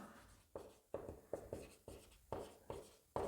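Pen writing on paper during a trigonometry lesson, quiet scratchy strokes arriving in a steady series of about eight short scribbles, each starting sharply and fading, with no talking over them.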